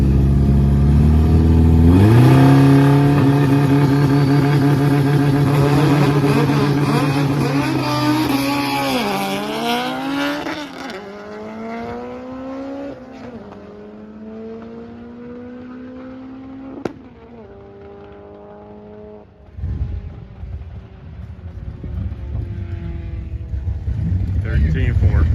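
A drag race car making a pass with its engine breaking up: a loud, near roar climbing through gear changes, then fading as it pulls away, with a sharp crack and the engine sputtering low before a rumble returns.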